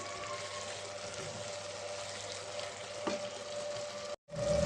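Curry with coriander powder and chili sizzling in a pan as it is stirred, a steady low frying hiss with a soft scrape, ending in a brief silence before the sizzle resumes.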